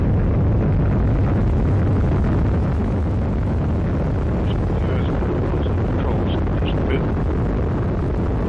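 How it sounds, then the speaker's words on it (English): Atlas V rocket lifting off with a Cygnus cargo spacecraft, a continuous broadband roar that stays loud and steady throughout, buffeted by heavy wind-like rumble. "liftoff of the Atlas V rocket with Cygnus and the SS John Glenn"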